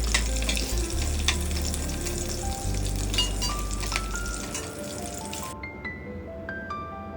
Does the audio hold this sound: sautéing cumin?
yes